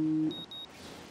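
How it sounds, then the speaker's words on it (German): An alarm clock in the video game Life Is Strange gives two short, thin, high electronic beeps in quick succession, clean and evenly spaced against a quiet background. "Ah, Wecker. Ätzendes Geräusch."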